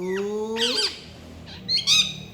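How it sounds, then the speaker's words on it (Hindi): A young parrot squawks angrily at close range, giving a harsh rising squawk followed by a few shorter, sharp cries after brief pauses. "मियाँ मिट्टू, तोते के बच्चे देख गुस्सा।"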